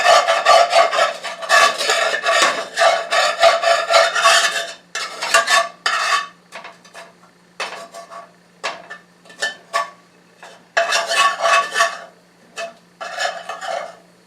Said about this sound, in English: I'm going to spread it all over, because what I want to do is get everything that's on the bottom of the frying pan incorporated with the butter